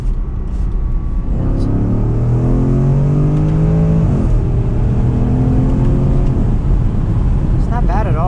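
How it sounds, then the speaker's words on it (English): A 2014 Porsche Cayenne GTS with a 4.8-liter V8 and stock exhaust pulls while driving, engine note rising steadily then dropping on a shift, heard close from inside the cabin with a steady road rumble. "Stock exhaust, I mean, these things make pretty good induction noise, and the exhaust sounds pretty good."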